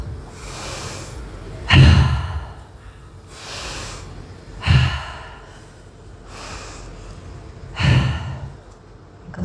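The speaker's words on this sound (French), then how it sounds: "Vous allez pouvoir prendre 2-3 respirations bien dynamiques pour refaire circuler l'énergie dans le corps." A group at a women's festival gathering takes deep, dynamic breaths, three strong audible inhale-exhale cycles spaced a few seconds apart, each with a sharp onset and a long breathy release, no talking over them.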